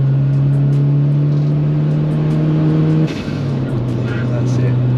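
An engine-swapped VW Caddy with a TFSI engine holds a loud, steady high rev close by, then dips briefly and settles back to a slightly lower sustained drone.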